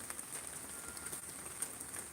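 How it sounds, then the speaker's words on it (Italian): Rain falls steadily in Salerno, a faint, even patter on surfaces with scattered drops, heard alone with no talk. "Qui a Salerno piove."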